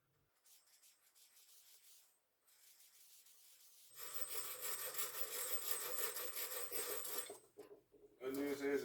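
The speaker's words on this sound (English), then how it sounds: "I'm gonna try this guy, which is like a little hacksaw, to cut these threads" Small hacksaw cutting the threads on a sway bar link, faint scraping strokes at first, then a denser, louder rasping run of back-and-forth sawing with short pauses between bursts.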